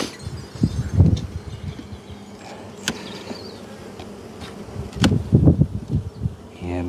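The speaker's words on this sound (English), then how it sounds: "giving the bees time to move out the way" Bees buzz around an open beehive during a live inspection, a steady close drone with individual insects flying past, plus occasional clinks and soft handling thumps.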